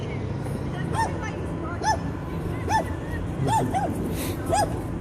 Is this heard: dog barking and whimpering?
yes